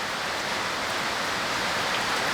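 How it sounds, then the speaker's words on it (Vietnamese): Heavy rain falling steadily outdoors over a garden, a dense, even hiss of downpour that stays constant and fairly loud throughout, with no voices. "Trời nó bắt đầu còn cơn mưa to rồi."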